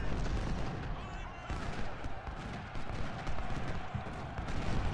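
Gunfire and artillery from the Ultimate General: Civil War battle at Antietam rumble in a dense, continuous barrage of overlapping shots and booms, loud and steady throughout.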